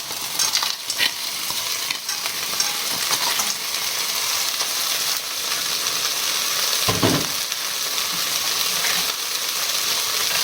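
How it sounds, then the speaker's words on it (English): Chicken fries in a pan with frozen edamame and green beans, giving a steady, loud broadband sizzle throughout with occasional stirring scrapes and no talking. "Dead simply, just going to fry that off for a good few minutes"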